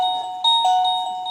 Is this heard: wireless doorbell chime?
yes